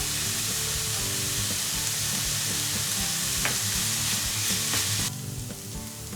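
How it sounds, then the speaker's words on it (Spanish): Vegetables sauté with a little salt in a hot pan for a vegan lentil bolognese, a steady close sizzle and crackle with occasional stirring scrapes, slightly quieter toward the end. "Sofreímos las verduras con un poquitín de sal."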